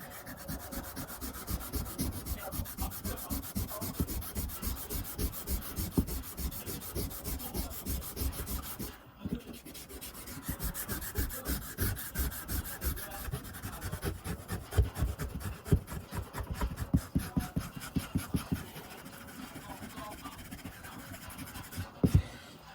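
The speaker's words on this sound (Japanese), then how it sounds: "今回はこういう、刃物用の消しゴム、研磨剤入り、結構粗めの研磨剤のものを使ってます" An old machete blade is scrubbed with a coarse abrasive blade eraser in steady, rapid back-and-forth rasping strokes. The close, dry rubbing runs continuously with a brief pause midway.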